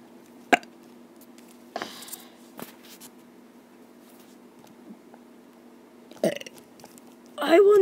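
Several separate burps from a cartoon character, short bursts spaced apart with quiet gaps, the last one longer and louder, with no talk over them.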